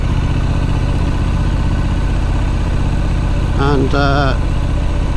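A Triumph Street Scrambler motorcycle engine idles steadily and loudly up close, its even low rumble continuing throughout, with a brief spoken word near the end.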